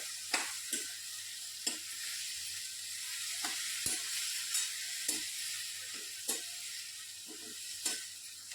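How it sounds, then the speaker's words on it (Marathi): Cowpeas are stirred into a sizzling spiced turmeric mixture in a cooking pot, a continuous frying hiss broken by regular scraping knocks of the spoon roughly every second, with no talking. "त्यामध्ये टाकणार आहोत आपण ही चवळी चांगली मिक्स करायची आहे"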